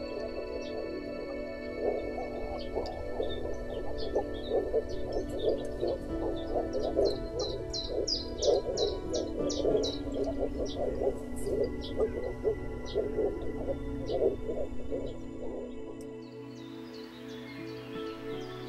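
A dense chorus of frogs calls continuously in an overgrown oxbow wetland near the Mura River, rapid pulsing croaks overlapping close by, with higher chirps scattered above; the chorus thins out near the end.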